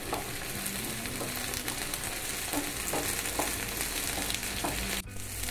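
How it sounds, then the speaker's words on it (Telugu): Okra and onion pieces fry in hot oil for a tangy lentil-dumpling stew, a steady close sizzle with a few faint scrapes and knocks, and the crackle drops away sharply near the end. "బెండకాయ ముక్కలు ఉల్లిపాయ ముక్కలు కూడా వేపుకోవాలి"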